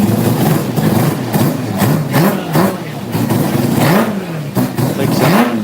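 A tuned Mazda RX-7 rotary engine revs repeatedly, loud and close, its pitch climbing and dropping in a series of rising blips over a constant rough idle.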